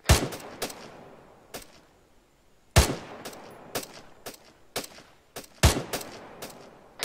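Rapid bursts of rifle and machine-gun fire in the ArmA 3 game during a jungle training drill, loud sharp cracks in three clustered volleys with echoing tails, with no talking.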